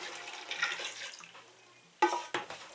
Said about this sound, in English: what you want to do is go ahead and pour it into that bucket